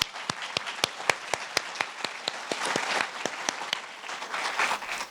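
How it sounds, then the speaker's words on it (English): Academic conference audience gives applause to the volunteers, several sharp nearby claps standing out over a steady wash of many hands clapping throughout. "So big round of applause again for them."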